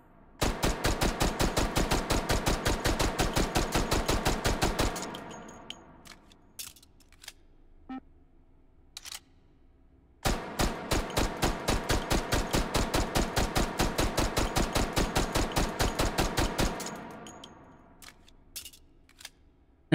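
Rapid MAC-10 fire in Hot Dogs, Horseshoes & Hand Grenades on HTC Vive VR, two long strings of evenly spaced sharp shots about five to seven seconds each, separated by quieter handling clicks and mechanical clatter.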